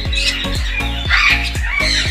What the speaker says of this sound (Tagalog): Big parrot, no?